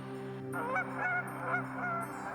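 Waterfowl at Lower Lake Waterfowl Refuge in Arkansas honk in a loose cluster of goose-like calls, several overlapping honks over a low steady background hum, moderately close.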